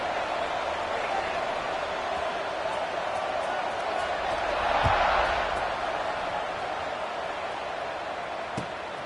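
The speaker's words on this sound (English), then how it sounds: "this crowd is buzzing after that last score" Stadium crowd at a college football game with Navy playing, a steady broad roar filling the clip and swelling briefly near the middle, with a couple of sharp thuds and faint talk underneath.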